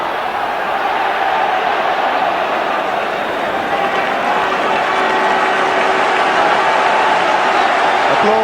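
Albion fans applauding amid a 45,000-strong football stadium crowd at an FA Cup semi-final between QPR and West Brom, a broad, steady roar of clapping with ongoing crowd noise.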